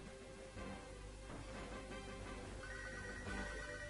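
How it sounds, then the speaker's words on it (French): An in-game phone rings in Pokémon Silver, a repeated electronic ringtone melody looping steadily over a soft game soundtrack, with no voices. "Ok, il nous téléphone direct."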